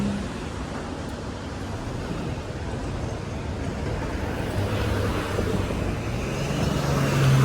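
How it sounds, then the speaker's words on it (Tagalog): Vehicles driving uphill toward the mid-levels on a busy road, a steady near engine and tyre rumble that builds louder toward the end, with no talking. "Papakyat sa mid-levels mga sasakyan na yan."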